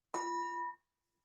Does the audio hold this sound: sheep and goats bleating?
no